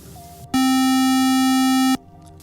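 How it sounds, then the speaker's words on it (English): A square-wave synth tone from Ableton Live's Operator instrument sounds as one loud, buzzy, sustained note. It lasts about a second and a half and is heard alone, with near silence before and after. "Now I'm gonna change the operator from sine wave to square."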